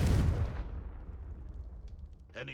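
A Confringo fire spell blasting in Hogwarts Legacy: a single loud booming explosion that decays into a rumbling tail, followed by faint game sounds.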